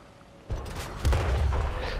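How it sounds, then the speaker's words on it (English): Artillery fire in World of Tanks booms loud and close, two heavy blasts about half a second apart with rumbling tails that carry on. "And artillery has missed us,"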